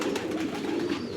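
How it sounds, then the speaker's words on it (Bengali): Omani pigeons kept in a small room on a farm in Qatar coo in soft, repeated low rolls, close and continuous throughout. "ছোট্ট একটা রুমের মধ্যে কবুতরগুলা লালন পালন, অনেকগুলা কবুতর"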